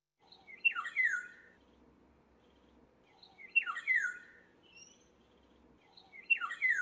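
A black-naped oriole in Taiwan, near black drongo nesting territory, sings fluid, buttery phrases that repeat three times at regular intervals, clear and fairly close against a quiet background.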